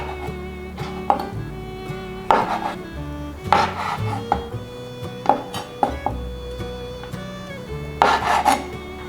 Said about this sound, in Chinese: 准备5片的豆干，把豆干切成正方形，再从中间对半切。